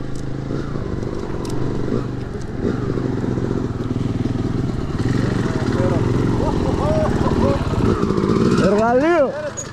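A Honda CRF300RX enduro motorcycle engine runs loud and close in a steady rumbling idle, with throttle blips rising near the end while voices talk over it.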